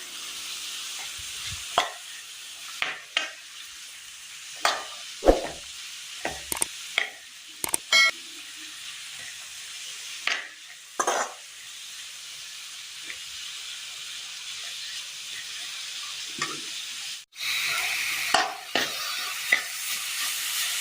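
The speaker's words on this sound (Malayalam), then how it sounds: "ക്യാരറ്റ്, തേങ്ങ തിരിഞ്ഞത് നന്നായി ഒന്ന് ഇളക്കി കൊടുക്കാം." Cabbage stems, carrot and grated coconut are stirred in a hot pan, a soft hiss beneath scattered scraping strokes at irregular intervals, close but faint, with no talking.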